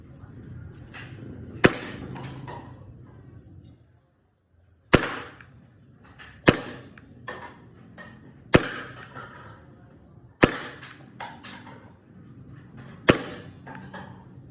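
An Umarex G7 gen5 airsoft pistol fired during an accuracy test with 0.25 gram BBs: six sharp, close snaps spaced about two seconds apart over a low background murmur.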